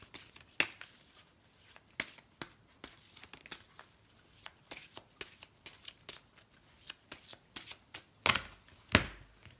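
A deck of oracle cards is shuffled close up, with repeated crisp riffling and slapping bursts at an uneven rhythm, quiet apart from a couple of sharper snaps near the end.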